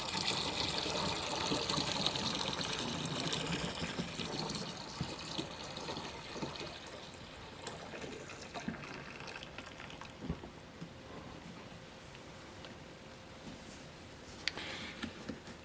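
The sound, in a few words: pouring fresh water into a wine fermenter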